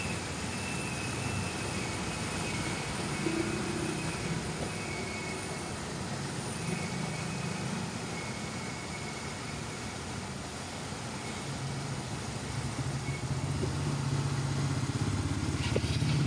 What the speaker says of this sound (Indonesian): ini kondisi mesin nyala.